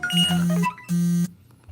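Two short electronic tones from a phone, the first warbling and stepped, the second steady, each roughly half a second, sounding close and clear with a brief pause between them and near silence afterward.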